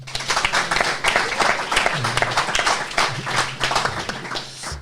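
Scattered, uneven clapping from a small audience at a live business talk session, rising and falling in bursts with murmur underneath, fairly close.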